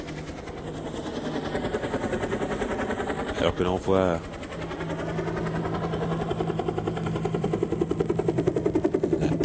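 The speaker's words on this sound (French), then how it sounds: "les hélicoptères toujours impressionnantes ici en Finlande" Steady rotor chop of a helicopter at the WRC Rally Finland runs throughout, fairly loud and continuous, with a voice talking over it and a brief louder burst midway.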